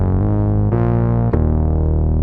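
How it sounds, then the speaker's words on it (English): A sustained, buzzy synth patch from the Rob Papen B.I.T. synthesizer, driven through its amplifier distortion, with harmonically rich tones shifting pitch in a few abrupt steps and no talking. "in the amplifier, there's a distortion which we used."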